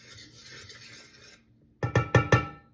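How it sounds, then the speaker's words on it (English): Wire dough whisk stirring sea salt into flour in a bowl for homemade noodles: a soft scraping rasp at first, a brief pause, then four quick, louder scratching strokes close by. "Whisk that around."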